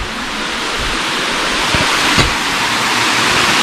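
A mountain river rushes in a steady, loud, close broadband roar, with a couple of faint knocks and no speech.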